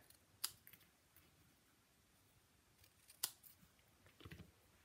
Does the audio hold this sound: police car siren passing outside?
no